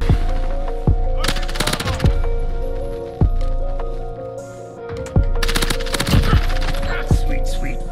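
SMG gunfire in a first-person shooter: loud, close bursts of rapid automatic shots in short strings, separated by sharp single cracks, over a constant tonal game hum.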